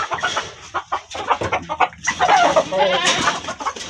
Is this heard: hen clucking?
yes